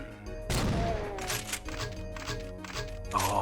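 Rapid automatic gunfire from a chain gun in a modded Doom game, a dense fusillade starting abruptly and continuing in bursts over a steady game background, with voices faintly present.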